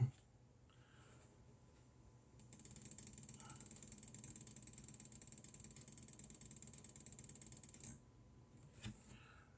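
Rapid mouse clicking on a click speed test, a dense, even burst of clicks running for about five seconds at close range, with quiet room tone before and after.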